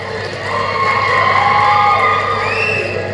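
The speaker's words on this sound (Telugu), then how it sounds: "మనమంతా లేచి నిలబడి చప్పట్లతో స్వాగతం పలుకుదాం" Crowd at a public event in an auditorium cheering and whooping loudly as Telangana's chief minister enters, a sustained roar of many voices with rising shouts, heard close and continuous.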